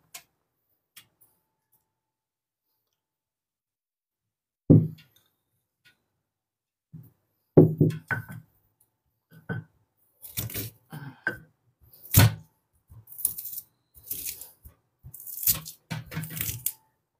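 Spice paste for sweet potato fritters is ground in bursts, with irregular clattering, scraping pulses that start after several seconds of near silence and grow busier toward the end, fairly close and moderately loud.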